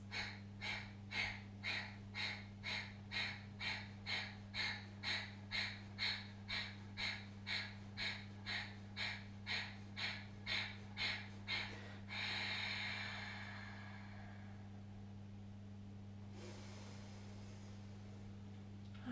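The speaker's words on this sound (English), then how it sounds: "And as we exhale, short, sharp breaths." A person doing yoga forces out a fast, even run of about two dozen short, sharp nasal exhales, close and clear, followed by one long, slow breath out and a quieter breath in, with no talking.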